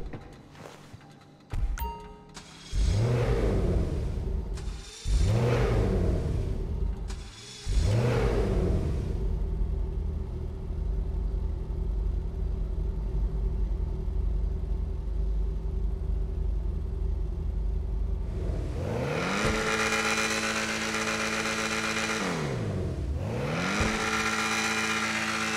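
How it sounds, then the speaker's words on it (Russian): Ocelot Jaguar sports car in GTA Online cranks over several times, catches and settles into a steady idle, then climbs into loud, sweeping revs near the end, heard close and alone. "Запуск двигателя, холостые обороты и тапок в пол идентичны во всех случаях."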